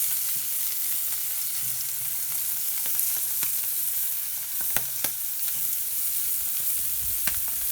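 Cajun-style smelts frying in a pan, a steady close sizzle with occasional pops and light stirring clicks, no talking.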